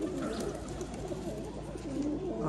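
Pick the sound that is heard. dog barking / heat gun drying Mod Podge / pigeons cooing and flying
pigeons cooing and flying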